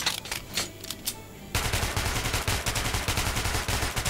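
Rapid bursts of gunfire from a heavy-recoil gun in Metro 2033 Redux, a few spaced shots then a sustained loud automatic stream of close, dense reports.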